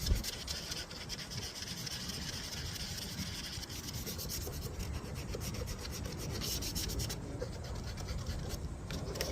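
Steady back-and-forth hand sanding with 320-grit sandpaper, a continuous dry scratchy hiss with quick rhythmic strokes, close and fairly loud, no talking.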